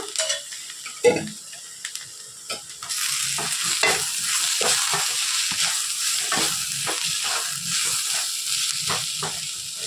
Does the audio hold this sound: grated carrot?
yes